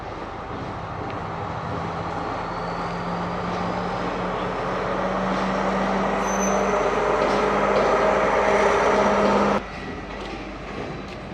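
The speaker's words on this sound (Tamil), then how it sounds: "இதா பாருங்க, ட்ரெயின் வருது." A train approaches on a railway line near Ella in Sri Lanka, a steady rumbling roar with a low engine hum and horn-like tone building loudly for about ten seconds before dropping off abruptly, with no talk over it.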